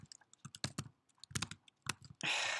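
Keys clatter on a computer keyboard as code is typed during a programming lecture: irregular bursts of crisp, close clicks with short pauses, ending in a brief rush of broadband noise.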